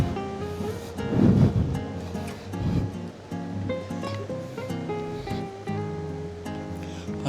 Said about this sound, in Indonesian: Udah kenal belum suaranya? Suara lembunan ombaknya.